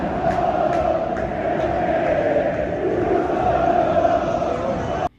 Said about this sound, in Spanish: El templo que antes aplaudía a Román cantó en su contra.